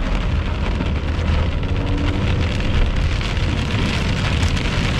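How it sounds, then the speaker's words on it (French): Heavy rain pours steadily during a thunderstorm in Saint-Mathieu-de-Beloeil, with light wind, a dense, constant hiss of drops pattering on a surface with no pauses. "c'est de la forte pluie, un petit peu de vent, quelques éclairs"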